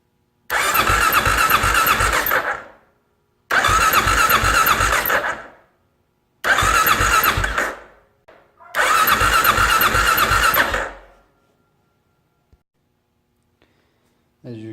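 A motorcycle engine with the spark plug removed is cranked by its electric starter for a compression test, in four separate whirring bursts of about two seconds each, close and loud, with silent pauses between.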